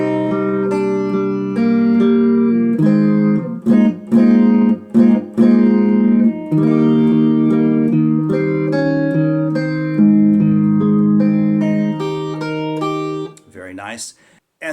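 A guitar plays a passage of a song, with sustained chords and melody notes in clear, steady phrases, close and alone, ending in a brief rough scrape.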